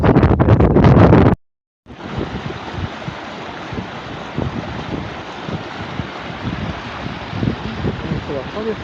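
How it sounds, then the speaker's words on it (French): Steady, loud wind roaring and buffeting the microphone on a Northern Ireland hiking trail, after a brief burst of talk and a short silence. "avec beaucoup de vent"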